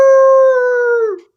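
A man imitates a coyote howl with his voice, one steady sustained wavering tone lasting just over a second before trailing off, loud and close, alone without other talk.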